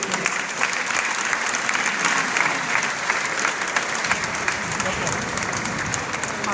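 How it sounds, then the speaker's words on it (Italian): A crowd claps steadily in sustained applause, close and fairly loud, holding an even level throughout. "un altro applauso"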